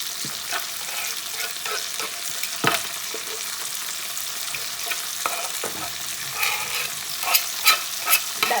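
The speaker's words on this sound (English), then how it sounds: "That nice sizzling sound is what you want to hear" Jamaican ackee with chicken back sizzles and crackles steadily in a hot pan while a utensil scrapes and stirs, with occasional sharper clicks.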